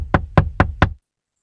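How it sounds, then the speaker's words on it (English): Four firm, evenly spaced knocks at a door, close and loud, followed by silence. "There's a knock at the door."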